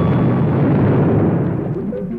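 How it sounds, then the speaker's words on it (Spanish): A small explosion goes off inside a computer-like machine in a fictional sound effect, a loud, dense burst that spreads into a sustained rumble over about two seconds before easing slightly. "se escuchó una pequeña explosión en su interior."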